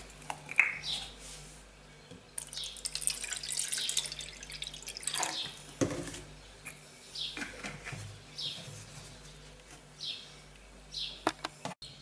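Water poured into a container while preparing an aloe vera home remedy, heard as intermittent splashing and dripping trickles at moderate level, with faint birdsong in the background.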